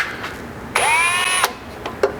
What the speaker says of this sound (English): drilling all the way through